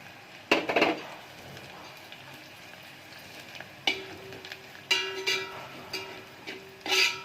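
Grated coconut tipped into a pan of garlic frying in oil, with a spoon clinking and scraping against the pan in several sharp bursts over a soft sizzle.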